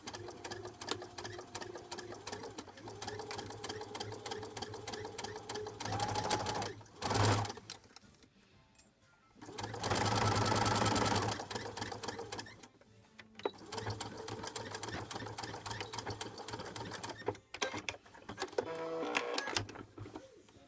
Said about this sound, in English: Hey, Mom, you want to try my sewing machine?